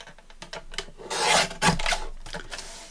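Craft material is trimmed close up with a series of short, dry rasping and rubbing strokes, ending in a longer scraping pass.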